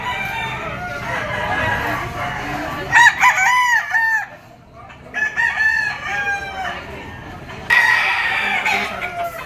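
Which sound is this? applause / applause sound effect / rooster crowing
rooster crowing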